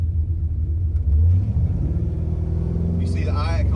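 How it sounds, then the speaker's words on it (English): Car engine fitted with Holley EFI, a deep close rumble that swells briefly as the throttle is pressed, then settles back toward idle, with someone talking over it. "If I put my foot on the throttle now,"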